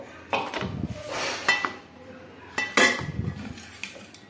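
A ball of fresh butter being washed in water in a small pot, with clinks and scrapes of metal and sloshing water in several short bursts, close by.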